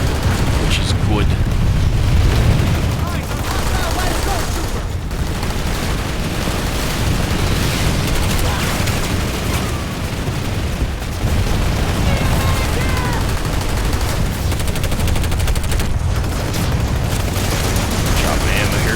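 Constant, overlapping gunfire and booms fill a Planetside 2 tower-defense fight, a dense wall of distant and near shots with a player talking over it.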